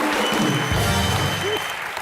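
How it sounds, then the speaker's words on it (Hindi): A television comedy studio audience gives a brief burst of loud applause for Vivek, dense clapping mixed with crowd noise and a voice over it. "एक बार विवेक के लिए जोरदार तालियां"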